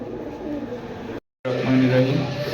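Jacobin pigeons, a yellow hen and a red cock, cooing in low, rolling repeated calls close by, with a short dropout midway and some human voice in the background.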